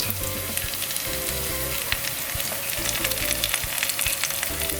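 Curry leaves sizzle in a frying pan of hot oil with sautéed ginger, garlic and green chilies, a loud steady crackling hiss with occasional scraping stirs, no talking.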